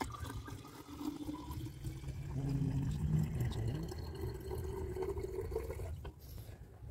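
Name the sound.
decanting liquid from beaker, silver chloride solution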